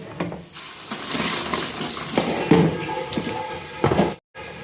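Vegetables and potatoes are washed by hand in a vessel of water, with close, irregular sloshing, splashing and dripping and no voices.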